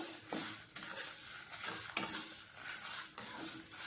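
Curry leaves and garlic roasting in a pan, stirred with a utensil: a steady dry sizzle with repeated scraping strokes against the metal, close by, no talking.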